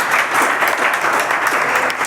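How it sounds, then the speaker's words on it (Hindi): Students in a coaching class clap for the second-place topper at a test awards session, steady dense applause from a room full of hands, loud and continuous throughout. "तालियां बजा दो"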